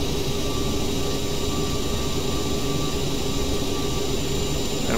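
A CRJ700 regional jet's engines climb at about 230 knots in a flight simulator game, producing a constant, moderate airy roar with faint steady tonal hums. No voices are heard over it.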